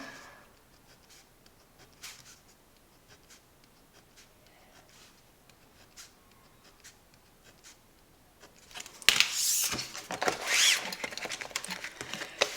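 A pen marking off bubbles on a paper cash envelope, heard as a series of soft, close scratching and tapping strokes, followed near the end by louder rustling and handling noise.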